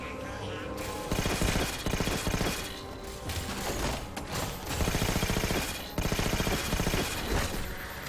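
A Promethean weapon firing in Halo 4, dense sustained volleys of rapid energetic shots repeating in bursts with brief pauses, loud and close throughout.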